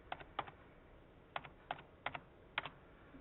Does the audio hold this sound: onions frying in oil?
no